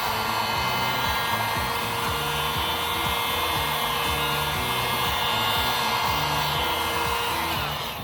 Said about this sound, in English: We're going to use our heat gun here.